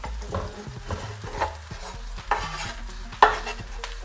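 Minced garlic sizzles in a hot pan while being stirred, with steady close frying crackle and a few sharp scrapes and clinks of the utensil against the pan.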